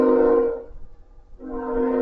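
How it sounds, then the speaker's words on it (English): A big passing train rumbles loudly, fades to a low murmur, then swells again with sustained horn-like tones. No talking is heard over it. "looks like the train finally passed. Jeez, it was a big one."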